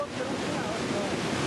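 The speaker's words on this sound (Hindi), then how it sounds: "बहाव तेज है, काफी ज्यादा तेज है नदी का" A flooded, fast-flowing river in Kulgam after heavy rain roars as a constant broad rushing wash, steady and close, with no clear voices.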